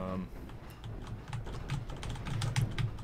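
Fast typing on a computer keyboard, a dense run of close, crisp key clicks over a low background hum, with a faint voice underneath.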